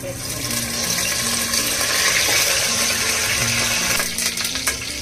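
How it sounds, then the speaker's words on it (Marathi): Cooking oil poured into a hot pressure cooker for veg potato dum biryani, giving a steady broadband sizzling hiss that holds loud and close for several seconds, then thins into a few crackles near the end. "कुकर गरम झाला। आता तेल टाकूया आपण।"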